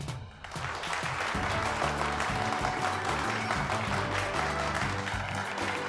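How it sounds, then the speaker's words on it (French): Guests clap and cheer steadily for a couple's opening dance at an anniversary party, a dense sustained wave of applause over loud party music. "Je vous demanderai d'applaudir bien fort pour eux."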